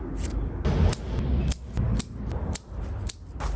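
Scissors snip a crabapple bonsai branch in a quick series of about seven sharp, close cuts, each a crisp metallic click with brief pauses between.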